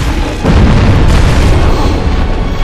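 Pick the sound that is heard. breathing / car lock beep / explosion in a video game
explosion in a video game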